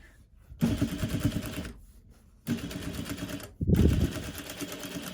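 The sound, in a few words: sewing machine stitching face mask near wire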